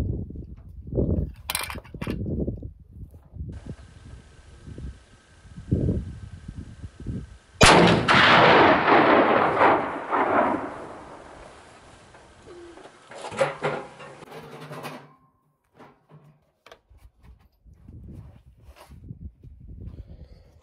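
A CVA Elk Horn Pro Mag muzzleloader rifle fires once outdoors, a loud sudden blast with a long rolling decay, set between stretches of quiet murmuring and small handling noises.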